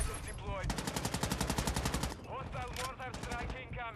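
Loud automatic gunfire from a 10v10 Dome match in Call of Duty MW2 on Xbox Series X bursts in a rapid, even stream for about a second and a half, followed by scattered shots, with voices talking.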